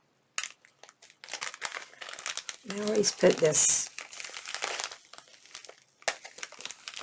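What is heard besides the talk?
unwrapping a package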